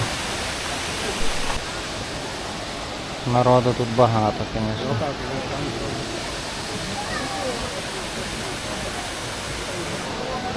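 Steady broadband rush of Ouzoud waterfall in Morocco runs the whole time, with tourist boats nearby, while a voice talks briefly over the continuous roar.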